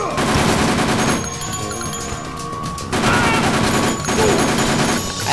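Gunfire in the video game Dead Rising: dense, loud bursts of rapid shots in two waves with a brief lull between, mixed with game clatter and crashes.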